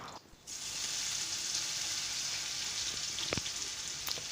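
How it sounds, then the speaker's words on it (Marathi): Cumin seeds dropped into hot oil burst into a steady close sizzle that starts suddenly after a brief quiet moment, with a couple of sharper crackles and pops near the end. "आपलं तेल चांगल्या तऱ्हेने तापलेलं आहे तर आता यातच मी आता जिरा टाकून घेतलेला आहे"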